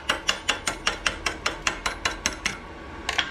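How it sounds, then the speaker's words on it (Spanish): Slag being chipped off a fresh weld joining thin metal to thick metal with a home inverter welder: a rapid, steady series of about fifteen sharp metallic taps, close and crisp, with no talking. "Vamos a retirar la escoria, fíjense."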